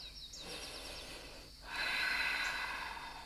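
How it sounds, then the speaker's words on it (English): Quiet breathing during a yoga plank hold: a soft breath, a brief pause, then a louder, fuller exhale rushing out, close and alone over faint background. "hold your plank for 3 deep breaths"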